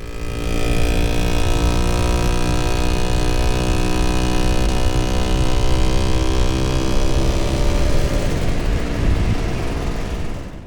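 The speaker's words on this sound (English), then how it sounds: "an exhaust manifold broke and gave the Lambretta a more sportier" A Lambretta scooter engine with a broken exhaust manifold runs steadily and loud throughout, a rough, raspy, harmonic-rich drone that stays close and constant before easing slightly at the end.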